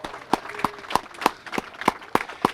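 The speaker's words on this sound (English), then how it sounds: "Let's give her a big round of applause." Sparse, evenly spaced hand claps ring out one at a time, sharp and fairly faint, like a small scattered round of applause at a town center ribbon cutting.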